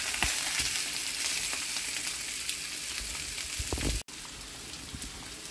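Pompano fish pan-searing in hot oil, a steady dense sizzle and crackle with scattered pops, close and loud, briefly cutting out near the end before resuming, with no voices.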